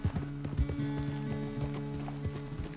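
Horse hooves clip-clop in a steady walking rhythm under a rider in the video game Red Dead Redemption 2. The hoofbeats are close and fairly quiet, with low tonal ambience.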